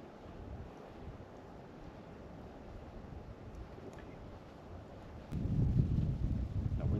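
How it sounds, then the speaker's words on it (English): Wind rushes across an island campsite in the Lake District as a low, steady blustery rumble. It surges noticeably louder near the end. "That wind's picking up again."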